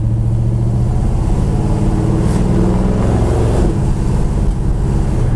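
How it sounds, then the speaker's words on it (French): A car accelerating with the window down, loud rushing wind and road roar over a deep engine drone that holds steady throughout. "Est-ce que je vous propose une petite accélération fenêtre baissée là?"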